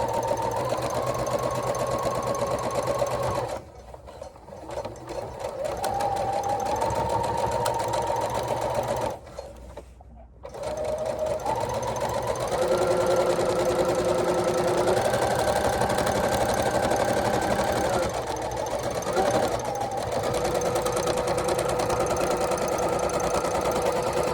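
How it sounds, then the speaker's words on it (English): A sewing machine stitches a straight seam along a pinned line on a reversible bag, running in long steady bursts with two brief pauses, close and clear with no talk over it. "so now we're just gonna sew straight down the line we just pinned"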